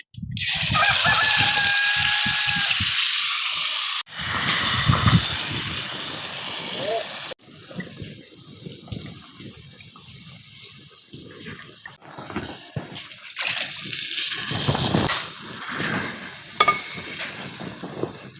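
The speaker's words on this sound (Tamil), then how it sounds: "அந்த மசாலாவை அப்படியே இந்த எண்ணெயில ஊத்திடலாம்" Hot oil hisses and sizzles loudly as a wet ground masala paste hits it, crackling on and off while voices talk over the cooking.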